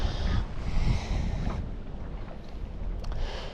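Wind blowing steadily at a tidal creek during flathead fishing, a broad rushing roar with gusty low buffeting on the microphone, continuous and fairly loud with no talk.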